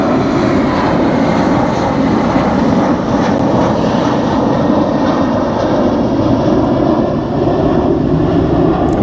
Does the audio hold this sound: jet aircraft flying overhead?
yes